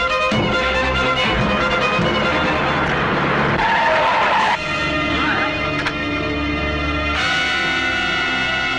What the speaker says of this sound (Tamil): ஒரு பொண்ணை கார்ல அடிச்சு போட்டுட்டாங்க